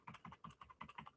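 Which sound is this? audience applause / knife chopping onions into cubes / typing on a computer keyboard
typing on a computer keyboard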